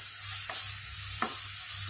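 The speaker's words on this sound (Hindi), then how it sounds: "और अब हम चला लेते हैं" A spoon stirs sev tomato curry, with tomatoes, coriander powder, red chili powder and jaggery, in a pan on the stove. Two distinct scraping strokes cut through a soft, constant sizzle.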